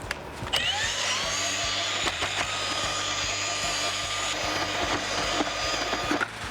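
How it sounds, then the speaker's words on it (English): Auger paddle mixer churning a bag of bedding compound in a bucket, a steady whirring motor drone with faint knocks and scraping, continuous and moderately close. "Take my auger mixer, or an appropriate paddle mixer."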